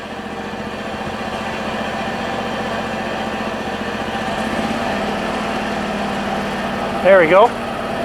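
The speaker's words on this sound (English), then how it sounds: "I'm gonna throttle up just a little bit." HotJet II unit engine throttling up steadily, a small engine drone rising slightly in pitch and holding, with a brief voice near the end.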